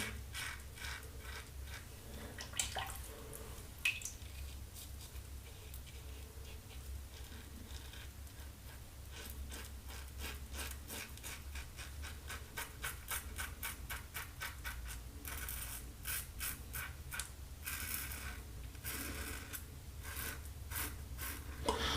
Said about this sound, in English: Here's where this razor really sounds different than the Bakelite.